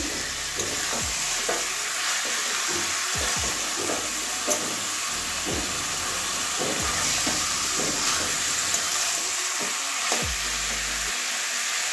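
Chicken and potatoes fry in a spice paste for a Bengali-style chicken posto curry, a soft, steady sizzle broken by regular scraping strokes of a spatula stirring the pan, with no talking.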